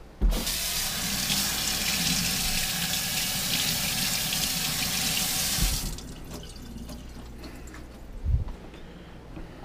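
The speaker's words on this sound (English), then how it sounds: "what I'm going to do is rinse them off first" A running kitchen tap rinses wilting greens under a steady, fairly loud stream of water that splashes for about six seconds, then stops, leaving faint drips and a brief handling knock near the end.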